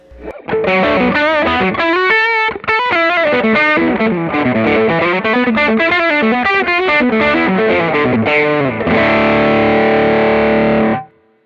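A heavily distorted electric guitar played through a Tube Screamer-style overdrive pedal on its high gain setting, chugging riffs and sustained chords ringing loud and steady, ending on a long held chord that cuts off.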